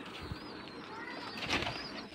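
Pigeons at a pigeon farm in Gopalpur village, Charghat, Bangladesh, a brief flurry of wing flaps and soft cooing close by over a busy background.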